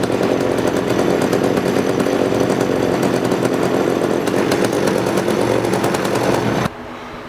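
Poulan Counter Vibe 3700 chainsaw with a manual oiler running loud and steady at full revs for several seconds, then dropping abruptly to a lower idle near the end.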